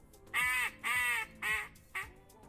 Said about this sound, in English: I can hear ducks.